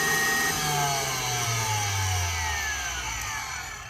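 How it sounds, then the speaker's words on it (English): The flywheel inside a Dewalt DCN680 18-gauge brad nailer whirs as it spins down. Its pitch slowly falls over a few seconds, close and fairly quiet, with no talk. "So that's the sound of the flywheel."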